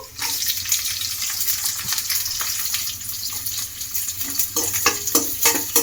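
Onions frying in hot oil for vegetable rava upma give a steady, close, bright sizzle throughout, with occasional stirring scrapes and crackles and no talking.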